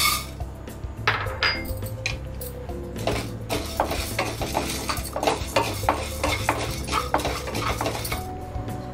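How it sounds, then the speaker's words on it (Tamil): Chana dal dry-roasts in a pan for idli podi, the grains rattling and scraping under a spoon in a quick, busy rhythm of close metallic clinks and rustles. "கடலப்பருப்பை வறுத்துக்கலாம்"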